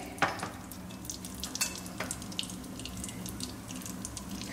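Asafoetida drops into hot oil in a pan while masala mirchi is being cooked, giving a soft, steady sizzle with scattered crackles and light scraping, fairly quiet and close.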